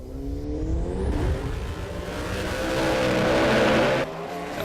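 An SR20-powered altered and a turbo roadster at a drag racing nationals, engines roaring loud and sustained at full throttle with a steady howl that drops off near the end.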